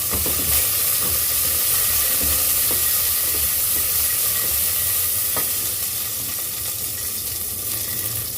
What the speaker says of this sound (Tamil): பூண்டு போட்டாச்சு இப்போ அதிலே இப்போ நம்ம பச்சை மிளகாய் ஒரு நாலு நறுக்கி வச்சுருக்கேன் அதையும் போட்டுக்கலாம்